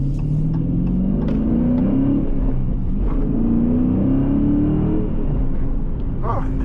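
A 2022 Dodge Challenger Scat Pack with a manual transmission is driven in the rain, its engine droning and rising in pitch through a couple of revving pulls, with road rumble beneath and a person talking over it.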